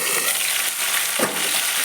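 Mango pieces fry in hot oil with panch phoron and black cumin, making a brief, close, continuous hissing sizzle with one soft stir.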